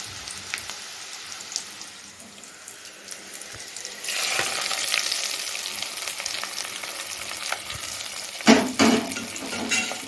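Cooked seeraga samba ven pongal is tipped into a pan of browned cashew tempering with the stove off. A steady frying hiss swells suddenly into a louder wet sizzle, with a couple of sharp splashy bursts near the end.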